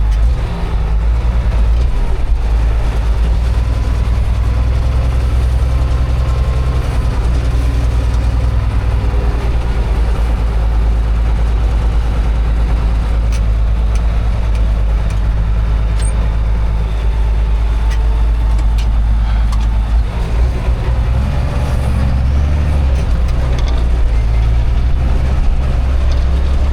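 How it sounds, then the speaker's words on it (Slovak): A loud, steady diesel engine of a ZTS 16245 Super tractor rumbles and chugs continuously at close range while ploughing, its low drone never letting up. "To je zvuk traktora"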